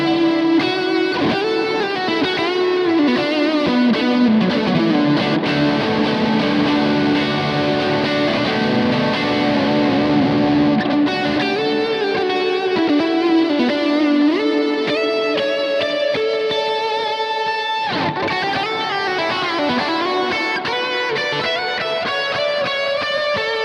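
Electric guitar played through a Kemper profiling amp loaded with a Marshall profile and its morph setting engaged, giving a heavier, wetter tone; sustained distorted chords and melodic lines ring out continuously for over twenty seconds with a brief break near the end.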